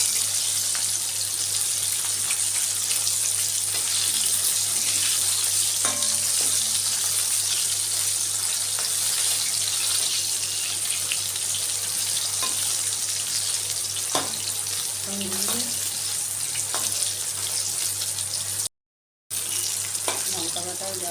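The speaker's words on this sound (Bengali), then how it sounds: "এই যে ভাজা হয়ে যাচ্ছে না আস্তে আস্তে" Boneless chicken strips frying in oil, a steady close hiss and crackle of sizzling, with occasional soft utensil sounds and a momentary dropout near the end.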